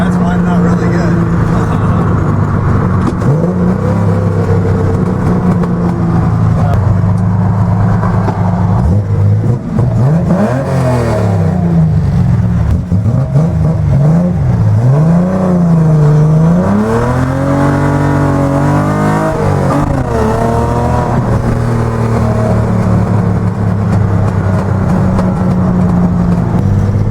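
Close and loud, a Datsun 240Z fitted with triple Weber 40DCOE carburetors and individual throttle bodies idles, then is revved repeatedly, pitch climbing and dropping in several sweeps before settling to a steady idle.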